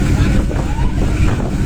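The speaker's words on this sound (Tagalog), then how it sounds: "So ayan, tumutunog na yung barko." Loud, steady low rumble of a ship's engine at sea, with wind buffeting the microphone throughout.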